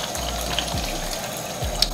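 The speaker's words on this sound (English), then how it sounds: "Wash my hands before cooking." Kitchen tap water running steadily as hands are washed before cooking, a continuous close hiss of flowing water with faint splashes and a low hum underneath.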